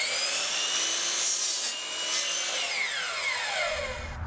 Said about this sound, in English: now we'll go ahead and we'll sand all the boards